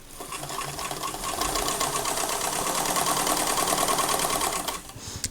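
A sewing machine stitching knit dress fabric hums in a fast, steady whirring rattle for about five seconds, close and continuous, then stops abruptly.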